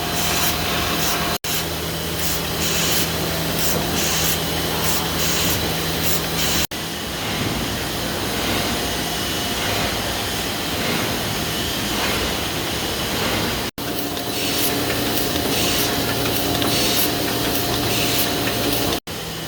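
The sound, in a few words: sheet-fed machine running printing sheets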